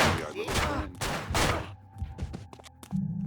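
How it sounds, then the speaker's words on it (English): Gunfire in the video game Manhunt: a voice first, then a rapid run of sharp, close shots in quick bursts. "It's all gunshots."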